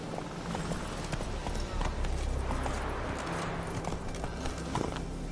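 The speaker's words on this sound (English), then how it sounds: "Run, Roach" Hooves of Roach, the horse in The Witcher 3, clip-clop in a steady galloping rhythm, close and continuous through the whole stretch, with a faint low background hum beneath.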